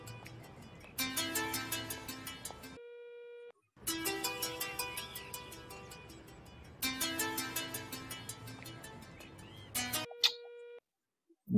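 A telephone ringing unanswered: a bright repeating melodic ringtone plays in three long bursts separated by short silences, loud and alone.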